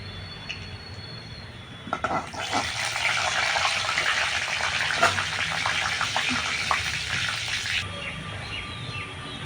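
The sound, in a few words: dry chilli, cumin, garam masala and bay leaf sizzling in hot oil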